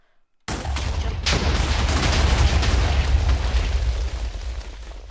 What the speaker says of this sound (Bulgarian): Взриви ли оная гадна част? Да, взриви се.